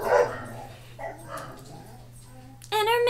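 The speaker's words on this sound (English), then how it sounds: "those are my dogs" Dogs barking and whimpering indoors, with sharp barks at the start and a loud burst of yipping near the end, over a steady low hum.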